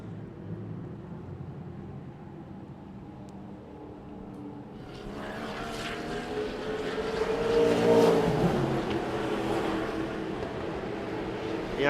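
A Porsche race car in GT Asia qualifying rounds a bend, its engine note rising and sweeping in pitch as it draws closer and louder, then holding strong, with no talking.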